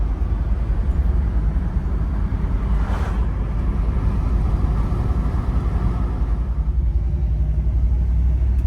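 Oldsmobile Rocket engine running steadily, a loud continuous low rumble without breaks, heard close and alone.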